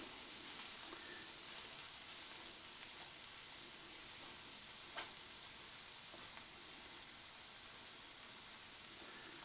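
Beef browns in a pan on an electric countertop burner, giving a quiet, steady sizzling hiss with a few faint crackles scattered through it.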